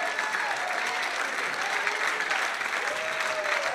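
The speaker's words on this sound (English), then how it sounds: "In the middle of a pandemic, they're clapping their hands unto the Lord." Congregation clapping hands during a church service, a dense, steady wash of applause filling the room throughout, with faint voices mixed in.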